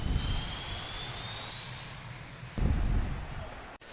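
MB-339 jet engine at full throttle in DCS, a steady, loud roaring whine with a high-pitched tonal scream that swells louder toward the end, with no talk.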